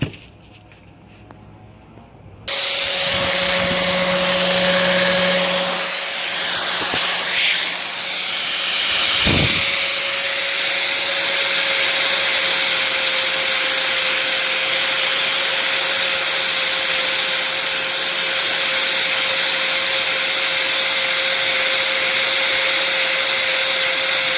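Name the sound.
angle grinder grinding carbon fiber bicycle seat stay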